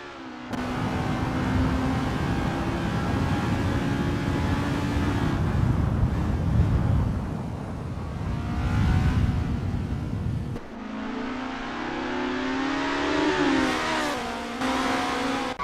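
The engine of a Renault race car in a sim racing game at Zandvoort drones loudly and continuously, climbing through the revs and dropping as the gears change on a practice out lap.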